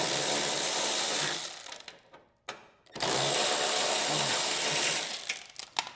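Ratcheting socket wrench with a 1/2-inch socket loosening bolts on a Craftsman snow thrower, a steady close buzzing ratchet run that breaks off briefly, then resumes in a long continuous burst before tapering into scattered clicks.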